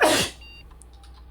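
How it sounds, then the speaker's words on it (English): A single sharp, loud human sneeze bursts out at the start, then fades quickly into quiet room tone with faint small beeps. "Oh, I'm gonna sneeze."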